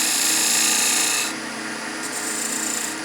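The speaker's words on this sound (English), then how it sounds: "you can actually scrape with this edge as well." A tool edge scrapes wood while a dovetail tenon is shaped, a close, loud, rough rasping that eases partway through and continues more softly in short strokes.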